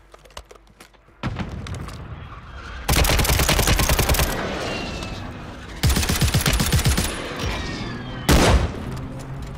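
Gunfire in a video game battle royale match, a sniper rifle among it: dense bursts of loud, sharp shots and booms come in several clusters over steady background noise, with no talk.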